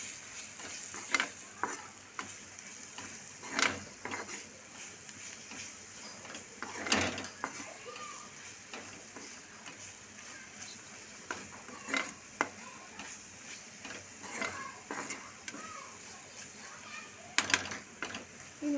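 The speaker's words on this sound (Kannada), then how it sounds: "ಇವಾಗ ಚೆನ್ನಾಗಿ ಮ್ಯಾಶ್ ಮಾಡೋಣ." Maggi noodles being mashed with masala in a pan, a spoon scraping and pressing in soft, repeated strokes with occasional louder clinks against the metal, low and close, with a faint sizzle underneath.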